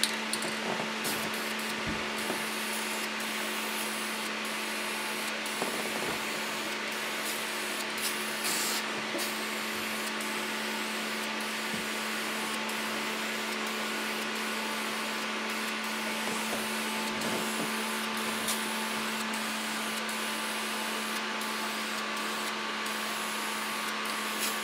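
Spray paint hissing steadily onto parts in a chrome-look finish, a continuous broadband spray held close for the whole stretch with a few brief pauses and no talk over it.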